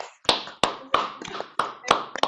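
Sparse, evenly spaced hand claps ring out close to the microphone as applause for the special guests at an online inspiration session, a thin few-person clapping rather than a full crowd.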